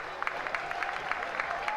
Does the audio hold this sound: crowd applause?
yes